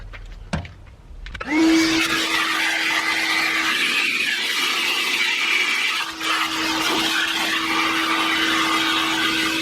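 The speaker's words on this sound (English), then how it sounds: "the vacuum will suck it all up" A vacuum cleaner switches on after a brief clatter and runs with a steady, loud whine inside a 2016 Toyota 4Runner, the drone wavering slightly as the nozzle moves.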